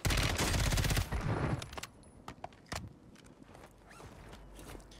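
Automatic fire from an FJX Horus in Call of Duty Warzone on Rebirth Island: a loud, rapid burst for about a second, then scattered, fainter single cracks and clatter trailing off.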